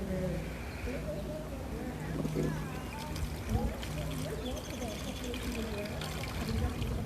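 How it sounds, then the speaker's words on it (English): An egg lifted out of the water it has been soaking in, with water trickling and dribbling back down in short splashes against a steady background of outdoor ambience. "we'll go ahead and take this guy out of the water, or try to"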